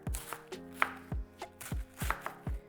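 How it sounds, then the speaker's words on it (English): A knife slices half a cabbage into strips on a cutting board, giving a quiet series of about nine crisp, close chops at a fairly even pace. "we're gonna take half a cabbage. We're gonna cut this. Just do it in strips."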